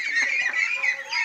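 A flock of about sixty young ducks, small for their one month of age, makes a steady, dense chorus of high, thin quacking and peeping, close by and continuous, with no talking.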